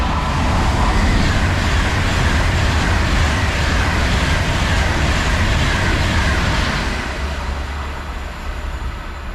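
Train 39121 rumbles steadily through Holmes Chapel station at close range, bound for Manchester Piccadilly from London Euston, a loud continuous roar of wheels and engine that eases slightly toward the end.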